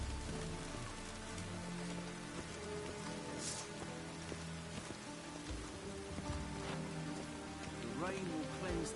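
Rain pattering steadily on surfaces in a city in The Witcher: Wild Hunt, a continuous soft hiss with scattered drops, faint and mixed with low ambient game sounds.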